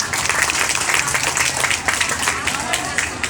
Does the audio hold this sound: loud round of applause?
yes